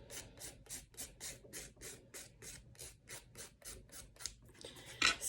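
A nail file rasps over resin powder on an artificial nail in quick, regular back-and-forth strokes, about fifteen close, crisp scrapes in steady rhythm.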